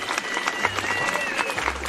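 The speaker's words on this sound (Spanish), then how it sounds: "Aplausos para Felipe." Studio audience applause greets a guest on a political talk show, a brisk, continuous patter of clapping with voices and a faint musical tone underneath.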